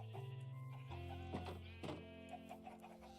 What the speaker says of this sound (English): lots and lots of chickens.